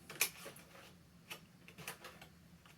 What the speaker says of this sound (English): here we'll go ahead and hit scan here. Business card.